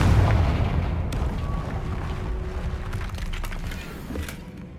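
The Confringo fire spell in the game Hogwarts Legacy lands as a deep, booming explosion that fades into a low, rolling rumble with scattered crackles, with no talking.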